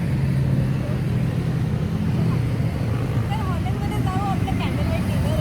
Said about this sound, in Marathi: कंटिन्यू गाडीचा आवाज कंटिन्यू कंटिन्यू